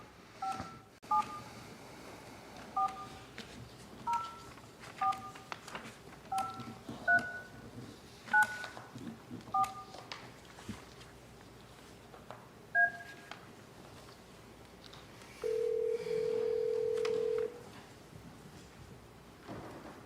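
Telephone keypad tones from a phone on speakerphone at a historic district review board meeting, a rapid series of short dual-tone beeps in irregular groups followed by one longer steady tone, in a quiet room without talk.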